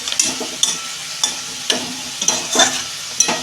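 Hot tempered spice mix is poured over katla fish, giving a loud, close sizzle broken by repeated scraping and stirring strokes in a loose rhythm, with no voices.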